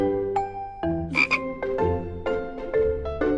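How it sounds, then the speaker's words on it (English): A cartoon frog croaks in a series of short, bouncy calls, about eight in quick succession, loud and close against light musical backing in a children's nature show. "Finding a frog."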